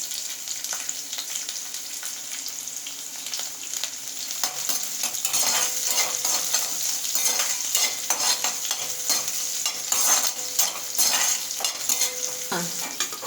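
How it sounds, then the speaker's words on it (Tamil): Cut small onions sautéing in oil with whole spices such as bay leaf and kalpasi, a steady close sizzle that grows busier as rhythmic spoon stirring scrapes the pan. "கட் பண்ணி வச்சுருக்கிற சின்ன வெங்காயம் போட்டு நல்லா வதக்கிக்கலாம்"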